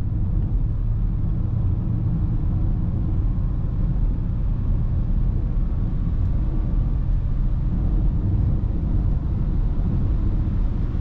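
A car engine drones at low revs in fourth gear, a steady deep rumble building gradually inside the vehicle with constant road noise.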